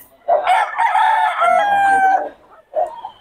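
A rooster crows loudly and close by in one long drawn-out call, followed by a short clucking note after a brief pause.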